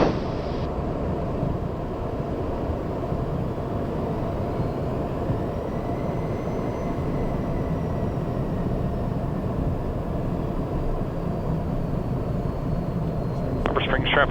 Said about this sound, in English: Honda Jet 2 Tango Mike is clear of runway 28 Harbor Springs